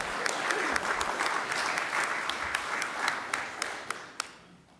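Outdoor crowd at an Irish flag raising at Paterson City Hall applauding Gentleman Jerry Cooney, dense steady clapping with a few sharp individual claps standing out, tapering off near the end.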